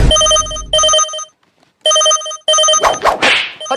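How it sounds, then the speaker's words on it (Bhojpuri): A telephone bell rings loudly and close in repeated bursts with short pauses between them, followed by a few sharp slapping knocks at the end. "केकर फोन आ रहलो"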